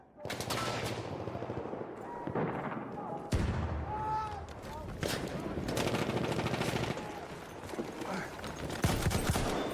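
Video game gunfire crackles in dense, loud bursts of rapid automatic shots and single cracks, nearly continuous across the clip, with a voice speaking over the shooting.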